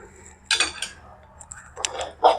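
A spoon clinks and scrapes against a pan while a mixture of cream is worked together over a gas flame, a few short metallic knocks spread unevenly through a quiet kitchen.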